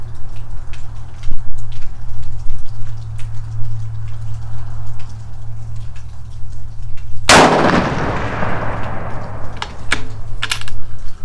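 A single loud rifle shot at an outdoor range, a sharp crack with a long fading echo, over a steady low hum and a few faint clicks.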